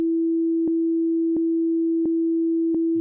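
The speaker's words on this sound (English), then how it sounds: "I'll increase the output so that the amplitude of my sine wave doesn't exceed 0." A steady, loud, low sine tone from a Serum 2 synthesizer, shaped as the basis of a drum and bass kick, holds unbroken while four evenly spaced short clicks tick through it.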